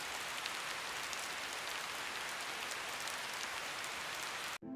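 Steady rain falls in a cartoon scene, a dense constant hiss of drops hitting surfaces that stays loud and unbroken before cutting off abruptly at the end.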